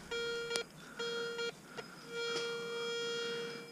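Metal detector sounding an odd, inconsistent signal over a dug target in a field: steady electronic tones in several bursts, broken by short gaps and clicks, close and clear with no talking.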